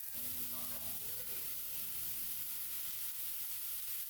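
Chicken skewers sizzle on a hot, oiled cast-iron tawa, giving a steady, close hiss that runs unbroken and evenly loud throughout, with no talking.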